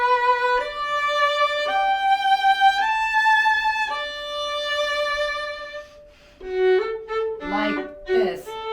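Violin excerpt at a grade 6-8 all-state orchestra level, played with big circle bows near the bouncing point, sustained bowed notes changing pitch in long strokes, then shorter articulated notes, close and clear with no talking.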